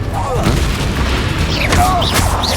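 Confringo fire-blast spell going off in Hogwarts Legacy, a booming burst amid continuous battle noise, with whooshing spell effects and other blasts layered through the short combat stretch.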